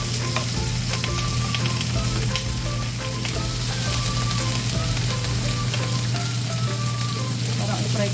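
Eggplant sizzles and fries steadily in a hot pan with onions, a dense continuous crackle holding at the same level the whole time, with no talk over it.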